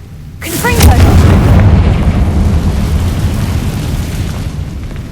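A Confringo fire spell explodes in Hogwarts Legacy, a sudden loud boom that rolls into a long, sustained rumbling roar lasting several seconds and slowly fading, with some game sounds over it.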